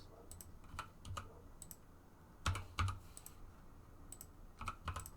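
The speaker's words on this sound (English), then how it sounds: "I feel like I'm typing so slowly." Someone types on a computer keyboard, producing quiet, irregular clicks in short bursts with brief pauses and a couple of louder key presses, with no voices.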